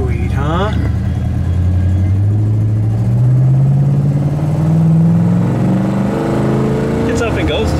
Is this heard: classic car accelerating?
yes